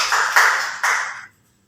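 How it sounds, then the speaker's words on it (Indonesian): Children applaud in a classroom in a short burst of clapping that lasts about a second, with two quick swells before it stops into silence. "Kita berikan tepuk tangan."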